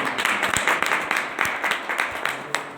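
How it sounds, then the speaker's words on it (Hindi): An audience at a business product training meeting bursts into loud, vigorous clapping, with sharp individual claps standing out against a dense, close wash that fades slightly toward the end. "एक बार जोरदार तालियां"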